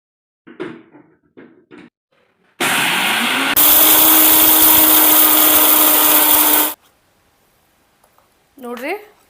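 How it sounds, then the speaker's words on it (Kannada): A mixer grinder pulverises about a cup of roasted chickpeas (puffed gram) into powder in a mixie jar, a loud, steady whirring roar lasting about four seconds, with a person talking briefly before and after. "ಈಗ ಹುರಿಗಡಲೆನ ಅಥವಾ ಪುಟಾಣಿನ ಚೆಂದಾಗೆ ಪುಡಿ ಮಾಡ್ಕೋಬೇಕು."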